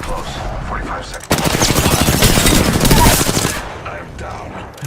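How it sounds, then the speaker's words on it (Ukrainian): Rapid bursts of automatic gunfire in Apex Legends rattle loudly for a couple of seconds, with quieter game sounds before and after. "Він десь здалеку стріляє."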